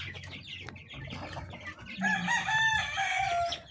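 One-month-old Sweater gamefowl chicks cluck and chirp busily while being fed, with a burst of louder, overlapping calls partway through.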